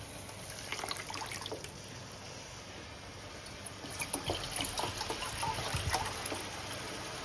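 Tamarind water pours and trickles into a pot of fish curry, a steady wet splashing that swells toward the end, heard close with no talking.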